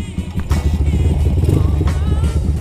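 A Honda Tiger motorcycle engine throttles up close and loud, its rumbling exhaust pulsing rapidly and rising as the rider opens the gas.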